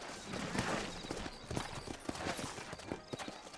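Horse hooves clip-clop in a steady rhythm over a noisy outdoor background, moderately close and fairly loud, in the video game Red Dead Redemption.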